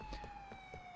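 A police car siren in the video game GTA 4 wails steadily as a sustained tone, faint and brief, with a few soft thumps beneath it.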